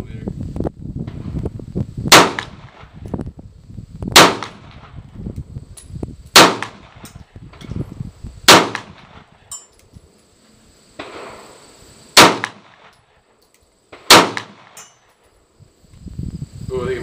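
A 9mm World War II–era gun fires seven loud, sharp shots, each cracking out about two seconds apart at close range, over low background rumble and handling noise.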